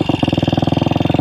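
1966 Royal Enfield Continental GT250 motorcycle, long unused, idling after a kick start, a loud close single-cylinder engine beating in a fast, even, pulsing rhythm.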